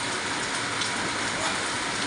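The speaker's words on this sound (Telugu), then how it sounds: "చూడండి ఎలా పడుతుంది వాన మనకు." Steady rain falls outside a house in a dense, unbroken hiss that stays even throughout.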